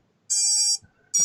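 An FPV drone's battery alarm gives two loud, shrill electronic beeps, the first long and the second starting just after a short gap, with almost no background sound.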